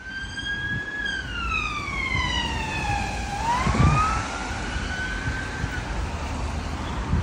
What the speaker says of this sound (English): Unmarked police car.